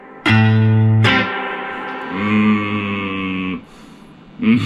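A guitar plays through a Fender Tone Master Princeton Reverb amp with its spring reverb engaged, giving a few struck notes and chords with sustained, reverberant tails that fade between attacks, close up and with no voices.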